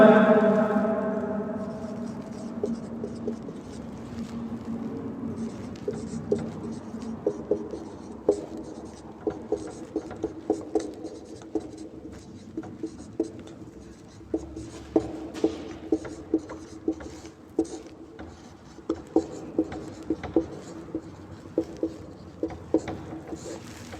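Pen writing on paper up close, a long run of quick scratchy strokes and taps in an irregular rhythm, quiet and alone without talk.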